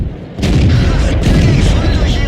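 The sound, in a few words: tank cannon firing, from the video game World of Tanks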